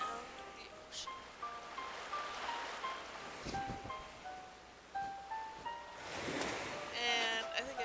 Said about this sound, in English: The sound of the ocean.